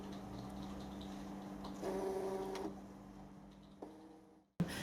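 A Brother ScanNCut cutting machine draws its cutting mat in under the rollers with a steady whirring motor hum, then a small click and a short clunk as it stops, heard close with no talking.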